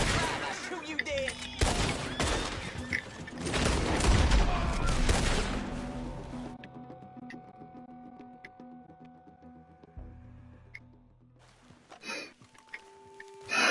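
Gunfire in a PS4 video game bursts in dense rapid volleys for several seconds, then fades to sparse shots and quieter game sounds with spoken voices mixed in.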